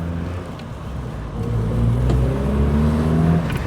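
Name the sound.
Triumph Acclaim car exhaust while driving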